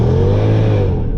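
Remapped Mercedes-Benz CLS55 AMG supercharged V8 revs hard and close, a steady loud engine roar with a slowly sliding pitch across the whole short burst, no voices.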